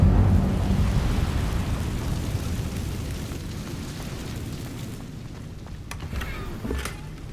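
A Hogwarts Legacy Incendio fire spell erupts in a loud roaring whoosh that rumbles like a burst of flames, then slowly fades into a crackling rush with a few sharp hits near the end.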